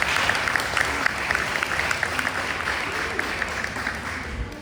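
An audience at a book signing applauds, dense, steady clapping from a crowd that carries on throughout at an even, fairly loud level.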